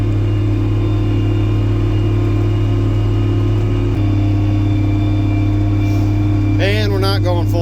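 A tractor engine runs steadily at about 2,000 RPM below full throttle in a field, giving a loud, constant low drone with a brief shift in tone midway and a short higher whine near the end.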